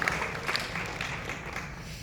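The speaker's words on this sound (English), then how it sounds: "I appreciate the applause" Audience applause at a summer lecture tour event, a steady, moderately distant wash of clapping lasting the whole short stretch.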